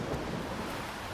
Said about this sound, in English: really bad lightning storm.